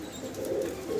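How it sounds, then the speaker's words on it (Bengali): Diamond doves, the world's smallest doves, cooing softly in a low, murmuring run of notes. The calls are faint and fairly steady across the short stretch, with no talking over them. "ডায়মন্ড ঘুঘু পাখি বলে। পৃথিবীর সবচেয়ে ছোট যে ঘুঘু পাখিগুলো, সেগুলো হচ্ছে এগুলো"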